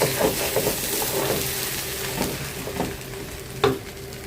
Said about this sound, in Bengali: কাবাবের অর্ডার আছে কাবাবগুলা ভেজে ফেলছি